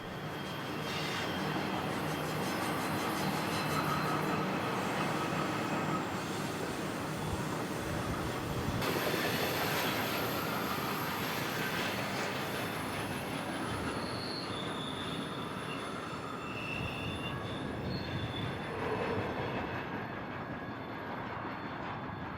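Eastbound freight train rolling past trackside in Kingman, Arizona, with steady loud rumble and high-pitched wheel squeal throughout, a continuous heavy roar of railcars sustained for the whole stretch.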